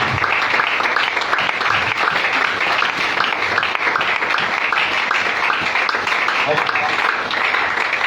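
A church congregation applauds throughout: dense, continuous clapping from many hands that fills the room, with voices mixed in.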